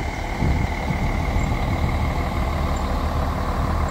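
A Util/Guanabara intercity bus, number 13102, runs with a steady, loud, low diesel drone nearby, a faint high tone persisting above it, with no voices.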